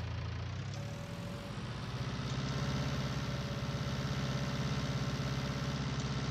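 An old truck engine idles close by, a steady low rumbling throb with a faint whine, running evenly throughout.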